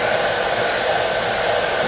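A heat gun blows hot air over a Kydex sheet being warmed for holster forming, a steady loud whooshing fan-and-air roar, close and unbroken with no talking.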